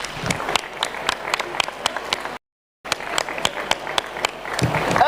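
A group standing on stage at an AI academic event in Hyderabad claps together in steady, crisp applause, close and fairly loud, with one abrupt short gap of silence midway before the clapping resumes.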